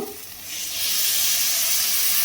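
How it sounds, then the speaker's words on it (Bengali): Water poured into a pan of sautéed soybean chunks and potatoes sets off a sudden loud sizzle that swells into a steady steamy hiss. "এখানে আমি পরিমাণ মতো জল দিয়ে দেবো আলুটা সেদ্ধ হওয়ার জন্য।"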